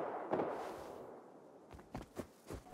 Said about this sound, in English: There's gunfire over this way.